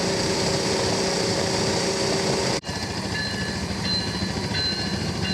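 Continuous loud rumble of a train rolling close by, with steady mechanical roar and faint high whine, a brief dropout midway.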